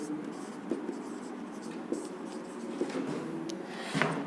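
Pen writing out a math problem on paper or board, soft scratching strokes with faint taps recurring through, low and close under a quiet room.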